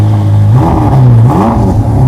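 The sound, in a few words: Ferrari SF90 4-liter twin turbo V8 engine revving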